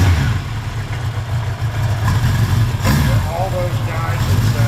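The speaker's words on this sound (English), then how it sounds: "Give it a fast rev." A fuel-injected 1978 Suzuki GS1000EC superbike engine runs loud and close, a rough low rumble that swells with a quick rev midway, while a person talks over it.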